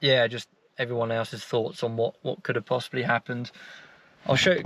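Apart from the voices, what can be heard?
No distinct noise like a dog, phone or traffic.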